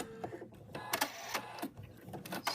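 An in-the-hoop embroidery machine stitches a zip-top bag with quick irregular mechanical ticks and thumps, close and moderately quiet.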